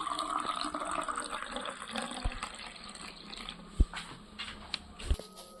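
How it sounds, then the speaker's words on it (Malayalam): Fresh lemon juice is poured into a cooking dish, producing a close liquid trickle and splash that fades into a few sharp clinks and knocks of utensils. "ഇതിലേക്ക് നാരങ്ങ നീര് നമ്മൾ ഒഴിച്ചു കൊടുക്കുകയാണ്."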